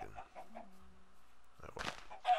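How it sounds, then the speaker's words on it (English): A chicken in the video game Minecraft gives a few short clucks, with brief squawks and clicky game sounds around it. "Here's a chicken. Give me an egg."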